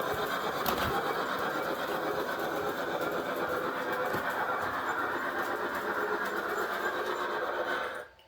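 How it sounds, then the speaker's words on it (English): A Piko G scale DB class 50 model steam locomotive runs with a steady rumbling clatter that gradually slows, ending with a short squeal of brakes before it stops. "you're going to see the train slow down prototypically, and then apply the brakes all by itself"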